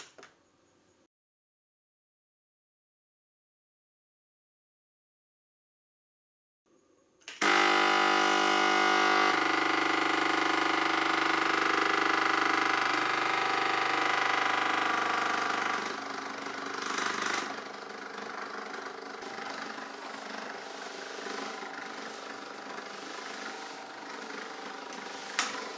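A Lidl SDM 1500 steam mop switches on after a long silence and runs steadily at speed setting 2 on tiled floor, a loud, constant motorised drone that dips slightly partway through and carries on alone with no talking.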